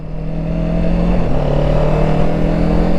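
A Kawasaki Ninja 7 Hybrid motorcycle pulls away smoothly from a stop, a loud, steady engine drone holding close and even throughout with no voices.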